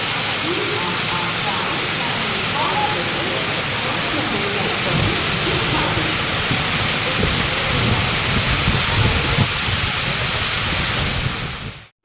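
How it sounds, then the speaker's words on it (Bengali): Heavy monsoon rain pours down with rolling thunder around a train station while luggage is counted, a loud, constant roar of rain that fills the entire stretch before cutting off abruptly. "দেখো অবস্থাটা কি বাজে, কি পরিমাণ বৃষ্টি হচ্ছে।"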